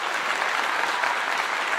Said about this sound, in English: Let's give her a clap.